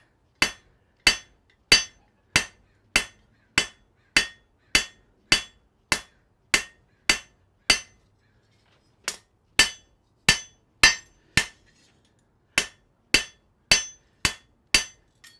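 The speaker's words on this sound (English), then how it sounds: "don't hit the anvil. Hit the thing in between you and the anvil." A hammer strikes hot metal on an anvil in a smithy: sharp, ringing metallic blows at a steady quick rhythm, about twenty in all, with a short pause midway, loud and close with no talk.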